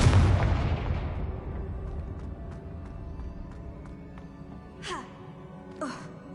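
Confringo fire spell explosion in Hogwarts Legacy: a loud, deep blast at the start that rumbles and fades over several seconds, followed by two brief fainter whooshing effects.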